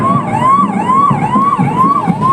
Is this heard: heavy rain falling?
no